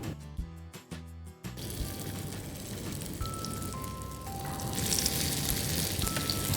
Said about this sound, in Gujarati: સો આપણું ઓઇલ અહીંયા ગરમ થઈ ગયું છે અને હવે આપણે આ જે ટિક્કી છે એને સેલો ફ્રાય કરી લઈએ.